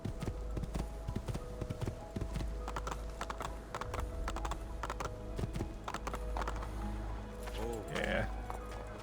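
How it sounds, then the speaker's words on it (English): Rapid, rhythmic hoofbeats of a galloping horse in Assassin's Creed 2, a steady clip-clop drumming continuously at moderate loudness, with a voice talking over it and game ambience underneath. "now gallop over here."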